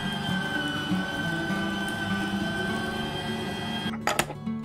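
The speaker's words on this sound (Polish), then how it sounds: "Zmiel mięso w maszynce." A meat grinder mincing a mix of pork neck and shoulder, a steady mechanical motor hum with a whirring drone, ending in a brief clatter, with no talk.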